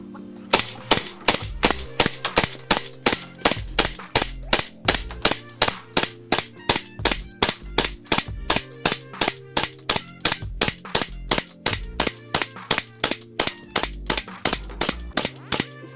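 Jag Precision TTI Alpha Combat Master gas airsoft pistol firing BBs in a long, steady string of about forty sharp, close cracks at an even, rapid pace, with no talking.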